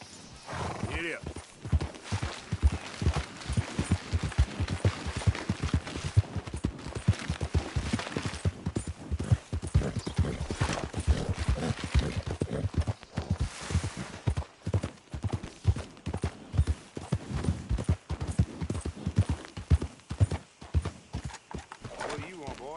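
Galloping horse in the Red Dead Redemption 2 video game, rapid rhythmic hoofbeats throughout with a whinny and bursts of distant gunfire mixed in, voices talking intermittently over the game sounds.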